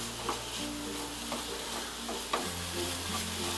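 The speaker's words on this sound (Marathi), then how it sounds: "हे बघा आता हे असं चांगलं हलवून घ्यायचं" Grated coconut and jaggery modak filling stirred in a pan, soft sizzling under repeated scraping strokes of a spoon at a steady rhythm, near and fairly quiet.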